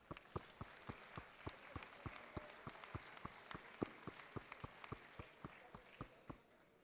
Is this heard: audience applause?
yes